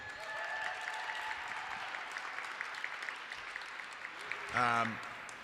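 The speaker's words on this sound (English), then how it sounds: "how about another round of applause for Carlita?" Audience applause at a City Hall International Women's Day celebration, a steady faint wash of clapping across the room with a brief voice rising near the end.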